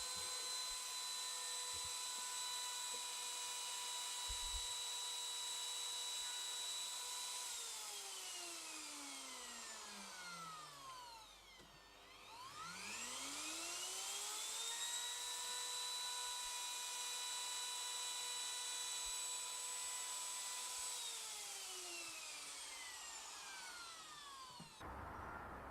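A wood router cutting a mortise, whining at steady high speed with strong harmonics, then spinning down to a stop midway and ramping back up to full speed before cutting again; loud, close and continuous, with no voices.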